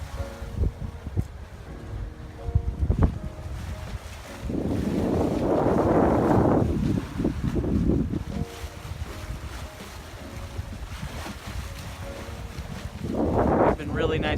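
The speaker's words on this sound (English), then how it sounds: "Got the engine on a steady 6 knots." Sailboat motoring under engine at a steady 6 knots, with a continuous low engine drone mixed with wind buffeting the microphone and bursts of water rush.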